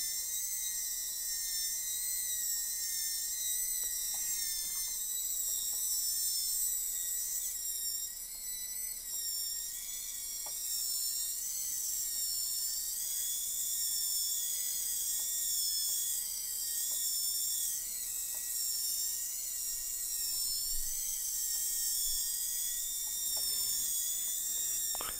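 Small 360-degree continuous rotation servos drive the treads of an Arduino bookcase tank, giving a steady high whine and gear whir throughout, with faint ticking mechanical clicks.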